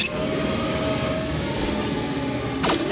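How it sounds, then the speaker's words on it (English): A steady, loud rumble of a train running on rails in a Sonic the Hedgehog cartoon, with a rising whistle-like tone near the end. "There's a train coming!"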